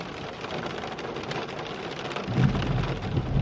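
Rain falls steadily in St Agnes, a village on the north coast of Cornwall, a continuous hiss that thickens slightly toward the end, fairly loud and with no voices.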